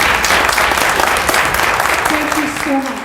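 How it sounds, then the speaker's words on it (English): An audience at a Mineral County candidate forum in Alberton claps steadily for the gentlemen on stage, a dense, loud round of applause lasting the whole clip with a few voices over it near the end. "these gentlemen also deserve a round of applause"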